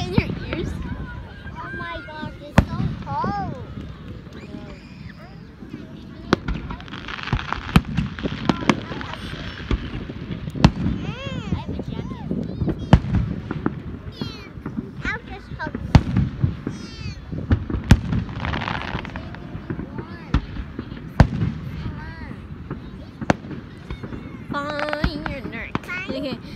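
Repeated Fourth of July fireworks bursts crack and thump at a distance in a busy, irregular series, with children's and adults' voices chattering and exclaiming throughout.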